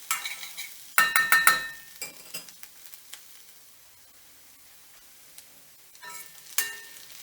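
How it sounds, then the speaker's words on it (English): Fish curry base stirred in a pan, with bursts of spoon scraping and clinks against the pan over a faint sizzle, quieter stretches between strokes and no talk. "Keep stirring, 3 more minutes, a couple more minutes"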